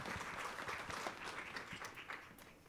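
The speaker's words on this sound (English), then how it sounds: "how about another round of applause for our drumline" An audience at a school concert applauds a drumline, a fairly quiet, distant wash of clapping with a few sharper individual claps standing out, steady throughout.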